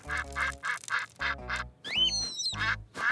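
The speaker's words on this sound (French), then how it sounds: "Oh! Les canards sont de retour!" Cartoon ducks quack in a quick series of short, clear calls, with a squeaky whistling tone rising in the middle and more quacks after it.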